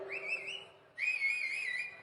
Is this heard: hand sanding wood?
no